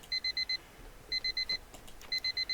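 Electronic beeping from an alarm clock beside a bed, three groups of four rapid high tones spaced about a second apart, close and alone against a faint background.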